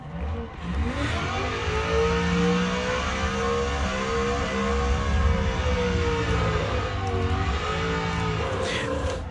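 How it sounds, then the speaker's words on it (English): Gravy Garage LS Turbo E46 Wagon drifting in a video game with power turned down, its engine droning and revving continuously, pitch rising and falling in smooth waves throughout. "I'm driving the Gravy Garage LS Turbo E46 Wagon"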